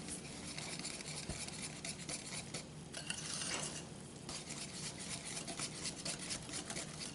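Cobbler batter is stirred in a bowl with a utensil, giving a faint, continuous wet scraping and swishing that swells briefly midway, with no voices over it.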